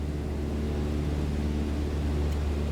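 A small propeller plane's engine in Microsoft Flight Simulator 2020 drones in a steady low hum with an even, unbroken tone, with no talking over it.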